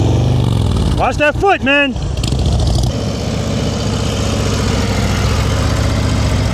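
Motorcycle engine idling and puttering through a slow-speed riding practice session in Maryland, a steady low rumble running under an instructor's voice that calls out coaching.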